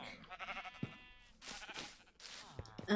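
A pink sheep in Minecraft bleats several times in short wavering calls, fairly close and clear, with a few other soft game sounds between them.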